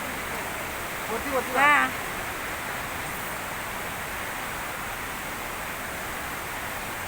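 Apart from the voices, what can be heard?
fast-flowing water in a hillside stream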